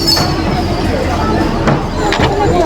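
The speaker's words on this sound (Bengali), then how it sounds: "আর আমাদের ট্রেন এখন ছেড়ে দিল বালিঘাট থেকে।" A passenger train pulls out of Bally Ghat station on the Sealdah–Tarakeswar route, a steady loud rumble of wheels and carriages with faint squeals and people talking over it.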